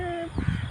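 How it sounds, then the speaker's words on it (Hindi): A crow caws from near a rooftop terrace on a cloudy, breezy rainy-season day, giving a brief, close, harsh call amid other bird sounds, and a voice is faintly present at the start. "बहुत प्यारी प्यारी आवाज़ आ रही है बर्ड्स की,"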